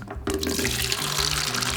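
Rinse water pours out of a Lomo daylight 35mm film developing tank into a sink, a sudden close gush that starts after a brief quiet moment and keeps splashing steadily.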